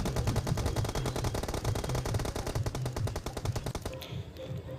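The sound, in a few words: gunfire in the video game Free Fire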